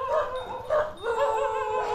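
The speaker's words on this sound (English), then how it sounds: "Dogs. They tend to bark at the bullies." Dogs in a rural Sulawesi village in Indonesia bark and yelp in several bursts at moderate distance, with whiny, rising yips between the barks.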